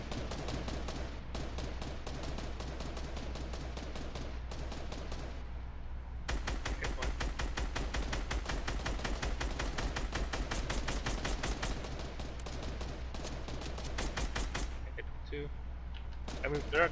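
Rapid automatic gunfire in the video game Fortnite, long bursts of evenly spaced shots with short pauses between, under players talking.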